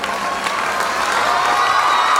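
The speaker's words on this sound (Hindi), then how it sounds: "ताली होती रहनी चाहिए" Continuous applause with some cheering from a crowd at a Tulsi Jayanti ceremony held by a district primary teachers' association, steady and fairly loud throughout with no break.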